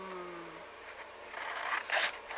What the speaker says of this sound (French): J'ai sorti les maxi ciseaux et bah voilà, je vais découper